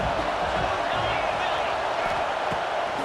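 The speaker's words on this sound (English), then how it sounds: "Here comes the noise from this big crowd in Happy Valley on 3rd down" Stadium crowd noise swells from a big football crowd in Happy Valley on third down in a college football video game, a dense, steady roar with scattered shouts.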